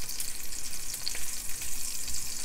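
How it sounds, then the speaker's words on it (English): Chicken frying in a pan over low-medium heat gives a steady, continuous sizzle with a crackling, bright hiss that holds even throughout, close and moderately loud, with no voices. "Cook in low-medium heat. Otherwise, the outside will be burnt and inside will be uncooked."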